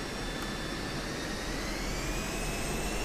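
Loud, steady roar of an F-16C jet engine at takeoff power in DCS World, heavy with external fuel tanks; a broad, constant rush of noise filling the whole clip with no voices.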